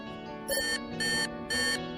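Electronic alarm beeping after a wrong password entry in a bomb-squad style guessing game: three loud, sustained harmonic tones repeating in a steady on-off pattern over a continuous tonal background, with no talking.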